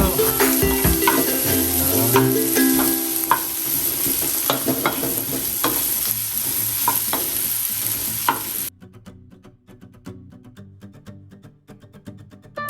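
Loud, steady sizzle of onions stir-frying in a hot pan for kimchi fried rice, with scraping and clinks of stirring, then cutting to a quieter hiss near the end.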